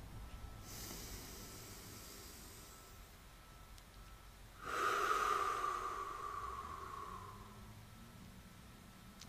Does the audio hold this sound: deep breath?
yes